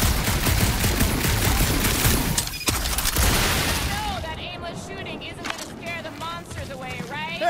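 Heavy gunfire in Guardians of the Galaxy, a loud sustained volley with booms and mechanical clatter that thins out midway, followed by character voices talking over a quieter background.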